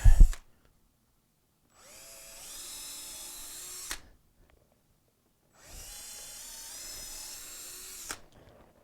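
A power drill drives screws into glued wood for an anvil stand, with two sustained whirring runs of about two seconds each, separated by silence and ending in sharp stops, after a short knock at the start.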